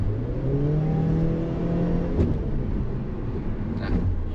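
A Subaru Levorg, a JDM import rated at 170 horsepower, is driven in sport S mode. Its engine gives a steady, droning rev from inside the cabin, with the pitch rising and then holding.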